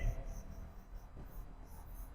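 A pen scratches across paper as a bank reconciliation entry is written by hand, a faint soft scraping heard close amid low room noise.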